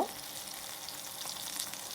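Chicken pieces fry in hot oil for a bridal-feast-style chicken roast, giving a steady, close hiss of sizzling with faint crackles throughout and no voices.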